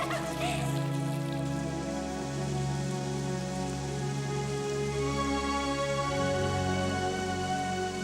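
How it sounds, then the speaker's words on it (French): Steady rain falls on a surface as a constant dense hiss with pattering drops, continuous and even throughout with no voices. "Ah bah voilà, la pluie, tout simplement."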